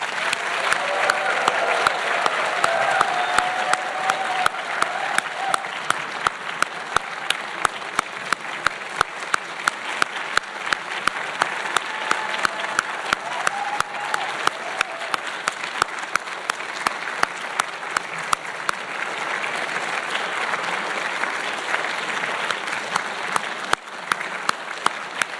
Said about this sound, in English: please join with me in applauding these 21 British Columbians who so richly deserve this honor today